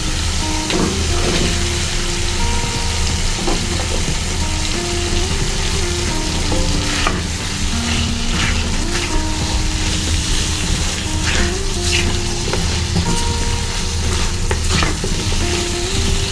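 Cubed potatoes fry and get stirred in a pan of rohu fish curry, a steady loud sizzle running throughout with repeated scraping and clinking from the spoon against the pan.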